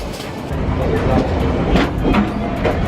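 Yangon's circular train rumbles along the rails with a steady rolling clatter and faint rhythmic clicks, heard from on board beneath voices talking.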